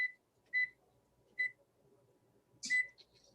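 A kitchen timer chirps with short electronic beeps as it is set while baking scones, four quick tones spaced unevenly, with faint background sounds in a quiet kitchen.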